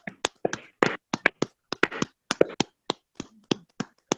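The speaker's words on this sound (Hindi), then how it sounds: "जोरदार ताली बजाएं, जोरदार ताली सर के लिए, जोरदार ताली।" Scattered clapping and tapping from a small online training and motivational session, sharp separate claps in an irregular rhythm, close and fairly quiet, with brief silences between hits.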